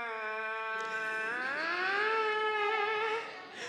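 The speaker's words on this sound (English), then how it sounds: "when he buzzes his lips and puts it up to the mouthpiece, it sounds like this" A French horn player buzzes his lips into a detached mouthpiece, one sustained pitched tone that bends upward and wavers, clear and close with no talking.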